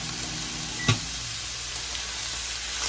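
Pre-seasoned chicken dropped into a hot pan of bacon cheddar ranch jalapeño popper pasta, one sharp thump on entry followed by a steady broad sizzle, close and continuous.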